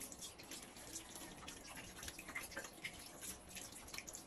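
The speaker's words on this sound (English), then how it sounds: "Step 8, rinse hands with water." Hands are rinsed under running water from a tap, a steady hiss of flowing water broken by small splashes and drips, at a modest level with no talking.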